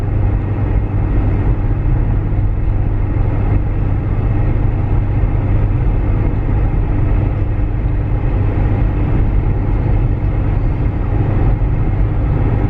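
A VW Touareg TDI diesel towing uphill at 65 in sixth gear gives a steady, low interior drone and rumble with constant road noise and no shifts. No one speaks over it.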